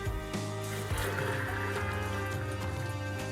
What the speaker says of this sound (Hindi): अभी हम 1 गिलास और इसके अंदर पानी का डालेंगे और हमारे जो चने हैं वो डिप हो जाएंगे।